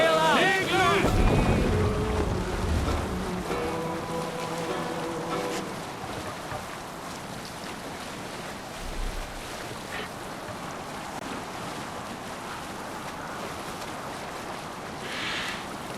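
A Viking longship sails on open water in Assassin's Creed Valhalla, with wind and waves washing steadily past; a voice and tonal game sounds briefly rise at the start before settling into a constant surf-and-wind bed.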